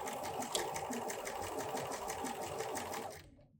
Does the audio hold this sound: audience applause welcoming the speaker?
no